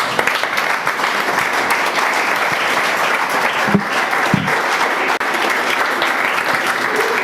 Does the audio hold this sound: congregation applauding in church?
yes